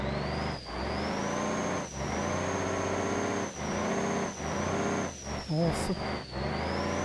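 Four heavy trucks labour up a sharp, snowy mountain curve in BeamNG Drive, their engines droning loudly and steadily with a whining tone, occasional dips and a brief hiss; someone speaks briefly.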